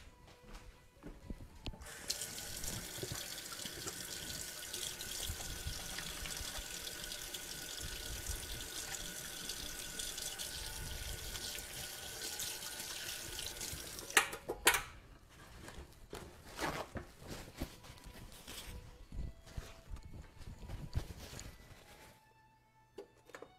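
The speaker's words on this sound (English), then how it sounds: "I'm going to wash my hands" Hands are washed under a running kitchen tap, a steady close splash of flowing water lasting about twelve seconds, then the water stops and quiet clatter and small handling noises follow.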